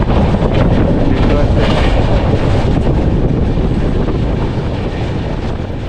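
The 22849 Shalimar Secunderabad weekly superfast express runs along the tracks with a dense, loud, continuous rumble and rattle of the rail cars, plus wind buffeting the microphone, heard from on board.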